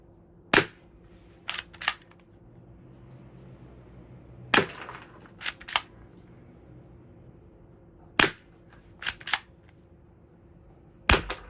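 A metal C1911A air pistol made in China fires over a quiet background, single sharp cracks in loose groups of two or three, nine shots in all with pauses between groups.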